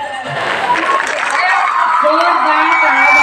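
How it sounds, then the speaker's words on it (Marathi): An audience at a Patil school group event cheers and applauds, a loud, sustained wash of clapping and crowd noise that holds steady and swells slightly toward the end. "जोरदार टाळ्या झाल्या पाहिजे"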